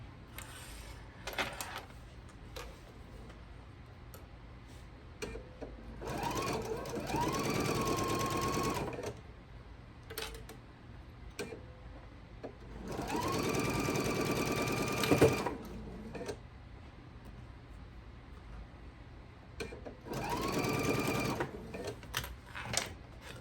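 A sewing machine stitches a scant quarter-inch quilt seam in three separate runs, each a few seconds of rapid whirring, with quiet handling sounds and pauses between them.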